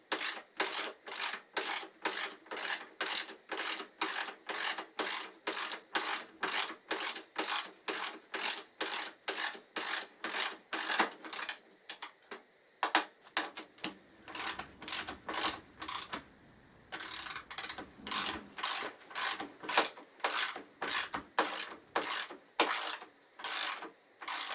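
Ratcheting wrench working 12mm bolts on the tail subframe of a Suzuki GSX1300R Hayabusa, a long run of rapid, even clicking strokes, close and loud, with a short break in the middle before the steady ratchet rhythm resumes.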